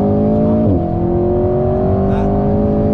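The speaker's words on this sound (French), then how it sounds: "je vais essayer d'accélérer un peu" A car engine drones loudly from inside the vehicle; its pitch dips briefly at a gear change, then climbs steadily as it accelerates.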